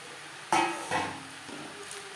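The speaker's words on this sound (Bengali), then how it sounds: "থোড়ের সাথে মাছ বেশ ভালো করে মিক্স করে দেব" A utensil knocks and scrapes against a pan in a few distinct clanks while fried fish is mixed with banana stem, with a faint background hiss.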